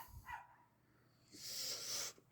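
A dog barks once or twice at a distance, faint and brief, in a quiet garage where an engine is being fitted to a 1955 Pontiac Safari, with a hissy noise following.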